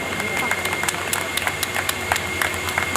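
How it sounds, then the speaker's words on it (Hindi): Clapping from a crowd at a senior citizens' Holi festival gathering after dance performances, dense and continuous with scattered sharper claps, while a voice speaks over a PA system throughout. "एक बार जबरदस्त तालियां।"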